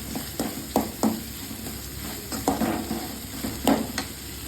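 Onions fry toward golden in a pan, a low steady sizzle broken by periodic spatula scrapes and knocks against the pan, close by.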